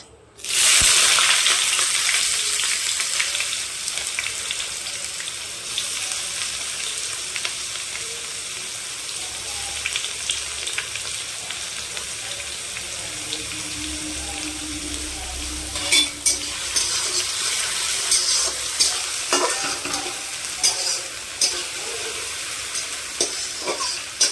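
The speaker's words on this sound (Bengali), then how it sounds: "এর মধ্যে দিয়ে দেবো কেটে রাখা পেঁয়াজ।" Chopped onions fry in a hot pan, giving a steady, loud, continuous sizzle with scraping stir strokes throughout and no talking.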